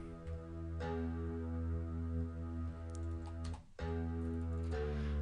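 A sustained, buzzing synth bass drones steadily with a brief dropout near the end before resuming.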